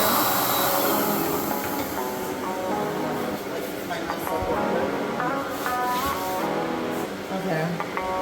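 A spray tan machine runs with a steady, loud airy whine and hiss throughout, like a small blower, while a voice talks faintly underneath.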